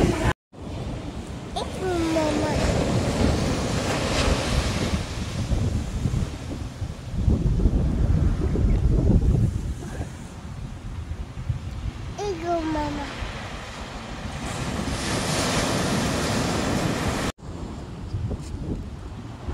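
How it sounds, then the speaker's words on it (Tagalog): Strong ocean waves surge and crash in a steady roar at Busselton, Western Australia, with gusting wind buffeting the microphone and people talking intermittently over it while fishing. "Meron, malakas lang talaga yung alon."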